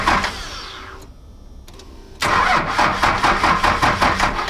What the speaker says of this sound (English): I'm just trying to see how fast it cranks over.